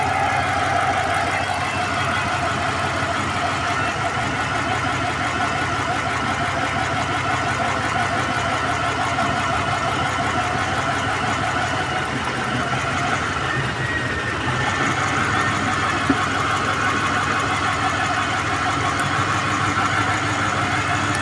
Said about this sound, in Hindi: अभी देखो इंजन पे मिसिंग भी कर रहा है